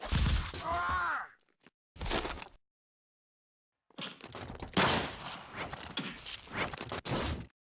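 Gunfire from the Lego Marvel Spider-Man video game: a couple of short, loud bursts up front, then a gap of silence before a denser stretch of rapid cracks and impacts, all sounding close and dry.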